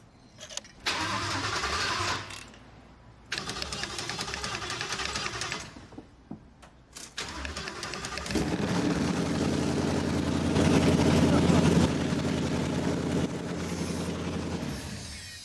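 A 1949 Ford car engine cranks in several short bursts, stalling between tries, then catches and roars loudly into a steady, rough running rumble that holds close and strong to the end.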